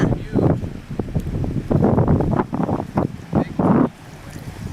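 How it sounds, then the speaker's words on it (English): Big surf waves breaking on a Tahitian shore, heard as repeated loud rushing bursts of surf mixed with heavy wind buffeting the microphone. "Big Tahitian waves, big surf waves."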